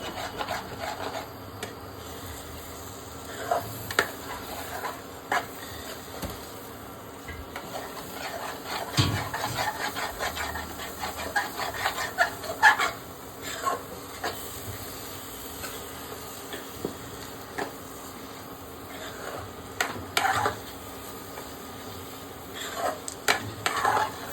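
A spoon scrapes and stirs food in a pan during home cooking, producing continuous rubbing and grating strokes with occasional louder knocks, close by and steady, with no talking.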